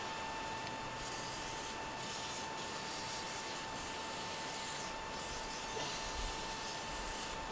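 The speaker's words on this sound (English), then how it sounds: "I'm going to put some penetrating lube on that and get that undone" Penetrating lubricant sprayed onto a trailer leaf-spring bolt during an axle replacement, a faint, steady aerosol hiss that runs unbroken for several seconds with no talking.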